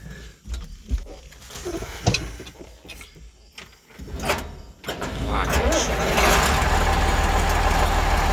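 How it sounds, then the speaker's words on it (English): A farm tractor being fired up to run cut corn through a chopper: scattered clunks and handling noises, then the engine starts and settles into a loud, steady running rumble for the final few seconds. "I guess I'll fire the tractor up and run this stuff through the chopper."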